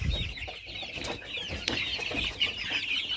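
Young chickens, a two-month-old cockerel among pullets of the Faverolle breed, cluck softly and intermittently close by, with brief rustling and flapping.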